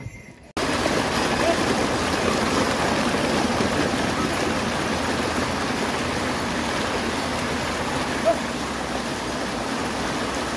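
A mountain waterfall on the Kedarnath trek route roars steadily after a short quiet start, a dense continuous rush of falling water heard up close.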